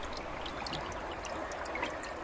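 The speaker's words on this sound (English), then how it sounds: "I had my camera aimed at the water dripping on this rock" Water dripping onto a rock in a river, a faint steady trickle with small scattered splashes and drips, quiet and close, with no voices.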